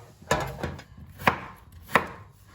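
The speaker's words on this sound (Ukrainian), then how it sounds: "Наріжу картоплі отакими кусочками." A knife chopping potatoes into chunks on a board for a meat and potato bake: three distinct, close, crisp chops spaced evenly apart, with no talking.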